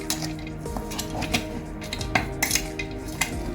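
Cashew and raisin filling for moong dal kachori is stirred in a metal pan, with repeated close clinks and scrapes of a spoon against the pan under a faint sizzle, no talking.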